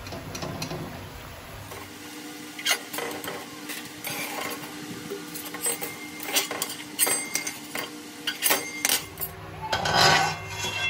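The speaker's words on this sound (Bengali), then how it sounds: "এবার আমি একটুখানি এইভাবে নেড়ে চেড়ে উল্টে পাল্টে লাল লাল করে ভেজে তুলে নেব" Phuluri fritters frying in hot oil make a continuous sizzle, broken by repeated scraping and clinking as a utensil stirs and turns them in the pan. The sounds are close and uneven.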